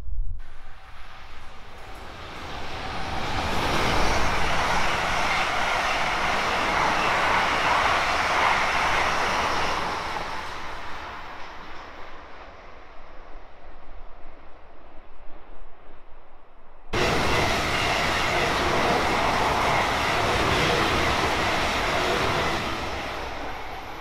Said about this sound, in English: a train arriving.